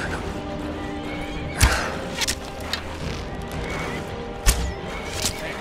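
Horse neighing amid combat in the video game Skyrim, whinnies over a rumbling fight backdrop with a few sharp impact hits scattered through.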